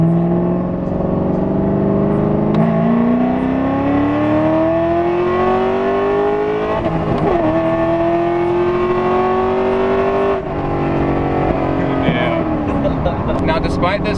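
Cammed C5 Corvette engine revving up through rising gear pulls, loud and close from inside the car, each climb cut by a shift before pulling again.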